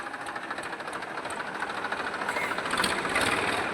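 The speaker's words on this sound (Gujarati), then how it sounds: "કાકા જોઈ લે કેવો ટ્રેક્ટર લઈને આવેલા" A steady mechanical engine drone, like a tractor idling nearby, with a rhythmic chugging hum that grows slightly louder toward the end.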